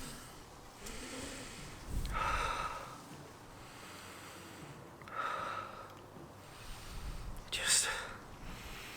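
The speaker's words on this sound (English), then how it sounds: "it's 30 straight seconds of me sniffing." Three deep, drawn-out sniffs close to the nose at a leather satchel, spaced a few seconds apart, with soft breathing in between and no talking.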